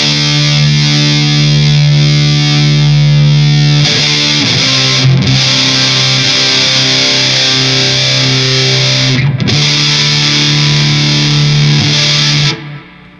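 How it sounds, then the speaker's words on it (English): Electric guitar on the bridge pickup through a Wren and Cuff Caprid distortion pedal and a compressor, loud sustained distorted chords that ring for long stretches, with a few short breaks before fading out. "Let's bring in this Wren & Cuff Caprid distortion."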